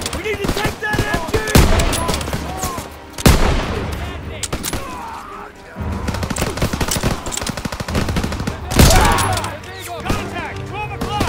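Bursts of rapid machine gun fire in the Call of Duty: WWII game, loud and close, with heavy fusillades and sharp gunshots repeating over several seconds while shouted voices come through between and under the shooting.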